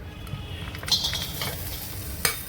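Spices and coconut are dry-roasted in an iron pan, a faint soft sizzle under scraping stirs with a few light metallic clinks, one sharper tap near the end.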